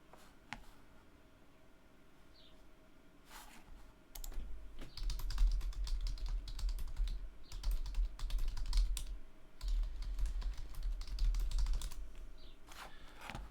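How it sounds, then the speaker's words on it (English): Computer keyboard typing during a Tabletop Simulator session, starting with sparse keystrokes, then a long busy stretch of fast continuous clicking over a low background rumble, close and steady. "Just typing to my friends in the group chat"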